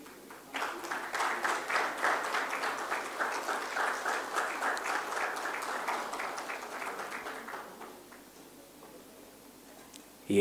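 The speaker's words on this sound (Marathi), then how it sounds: "सगळ्यांनी जोरात टाळ्या मारूया का एकदा" At a Maharashtra business conference, the audience claps in a steady, rhythmic patter that swells for several seconds and then thins out and dies away toward quiet.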